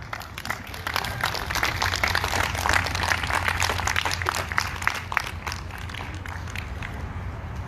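Crowd at an outdoor voting rights rally clapping for several seconds, a dense spread of hand claps that gradually thins out, with a faint voice underneath.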